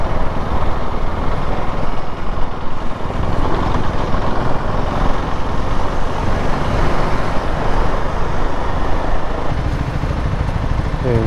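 Dense road traffic near the Gachibowli signal in Hyderabad roars steadily around a rider on a KTM Duke 390 motorcycle, a loud, continuous wash of engines close by.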